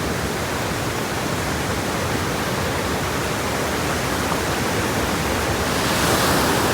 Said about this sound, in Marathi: बघा खाली किती पाणी जातो बघा